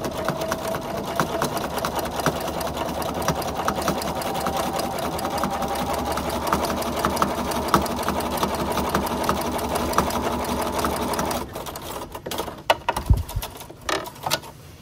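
Sewing machine quilting straight lines with a walking foot through a basted quilt sandwich, a loud steady mechanical whir running continuously for about eleven seconds before stopping, followed by a few scattered clicks and handling knocks.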